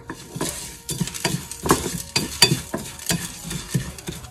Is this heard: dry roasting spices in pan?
yes